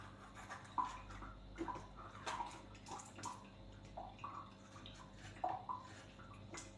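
Tap water runs faintly while food is washed for kufta, with soft splashes and rubbing rising and falling irregularly in a quiet kitchen.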